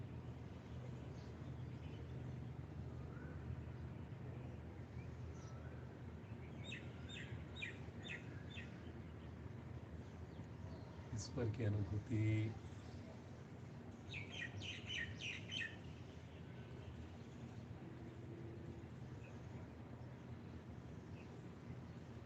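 Birds chirp and sing in the morning, scattered short bursts of tweets standing out faintly over a steady low background hum, with a voice briefly speaking partway through.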